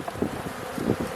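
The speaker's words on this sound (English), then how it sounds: "scoop all these bees back in there" Honey bees buzzing around an open hive during a December requeening, a close, steady droning hum with soft flutters and wind rustle.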